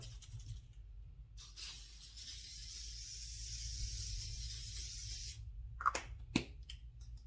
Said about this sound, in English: I'm going to use some spray glue. Just spray glue.